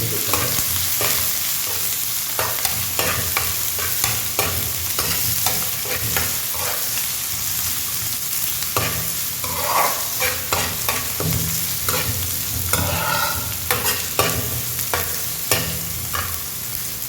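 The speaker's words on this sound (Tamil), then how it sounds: "கொஞ்சம் ஃப்ரை பண்ணுங்க. வெங்காயம் கொஞ்சம் லைட்டாக போட்டால் போதும்." Onions and cumin frying in a pan for a tamarind dal curry, with steady dense sizzling under repeated scraping, stirring strokes throughout, close and continuous with no talk.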